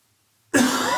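A man lets out a single abrupt cough after near silence, close and fairly loud, cutting off as the clip ends.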